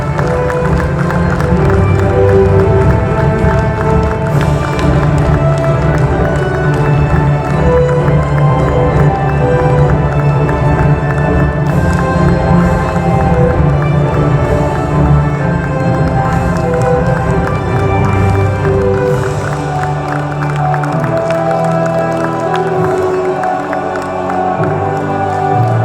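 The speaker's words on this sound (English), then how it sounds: "Can we have a round of applause for" Applause and cheering from a crowd at a corporate volunteering conclave, steady and loud throughout with whoops mixed in, over a bed of background music.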